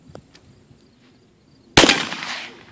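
A single close, loud shotgun blast at a moving target, with a sharp onset and a decaying tail that rings on for about a second after some quiet handling noise.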